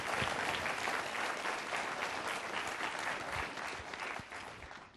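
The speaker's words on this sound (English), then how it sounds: "please, I'd like you to give a round of applause to the DEOMI staff for what they do" Steady applause from an audience honoring the staff of the Defense Equal Opportunity Management Institute, dense and sustained clapping throughout that fades slightly toward the end.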